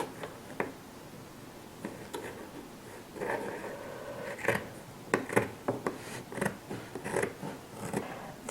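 Scissors snip around the curved edge of a fabric gift card envelope, a run of soft, irregular close-up cuts and rustles, sparse at first and then quicker and denser toward the end.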